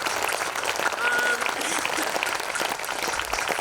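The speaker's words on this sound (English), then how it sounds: "give yourselves a round of applause" Outdoor crowd at a peaceful racial-equality rally claps in a sustained burst of applause, a dense patter of many hands, with a few faint voices mixed in.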